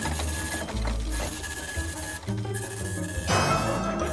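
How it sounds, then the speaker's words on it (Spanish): A printer prints in short mechanical bursts, with whirring and clattering feed passes that start, pause and start again, sounding close and fairly loud with no voices. "Oh, no, todavía está imprimiendo."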